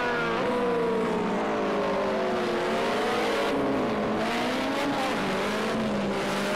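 Mitsubishi Lancer Evolution VI racing at Oschersleben in Project Cars 2, its engine droning steadily with pitch swells and dips as it shifts through gears, loud and continuous with no talk.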